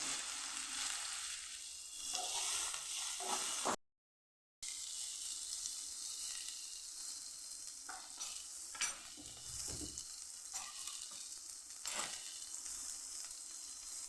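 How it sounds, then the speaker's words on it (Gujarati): Chopped capsicum sautéing in hot oil with asafoetida, a close, steady sizzle broken by scraping stirs and a brief total dropout partway through; no one speaks. "એમાં આપણે કેપ્સિકમ ઉમેરી દઈશું એને સાતડી લેવાના છે"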